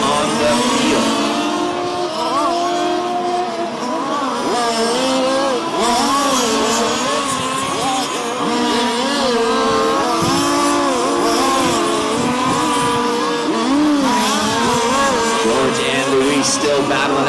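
Race cars roar past on a back straightaway, their engines droning loud and constant as they battle for position, with rising and falling engine pitch the whole way. An announcer's voice runs over the engine noise.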